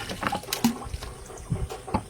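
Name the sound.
jaggery water being poured into a mixing tub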